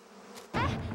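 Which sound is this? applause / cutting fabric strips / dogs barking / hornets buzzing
hornets buzzing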